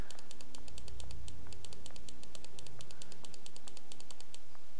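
Rapid, evenly spaced clicks sound close and crisp while someone plays a Sherlock Holmes game, a steady stream of sharp taps repeating for several seconds with a low hum beneath.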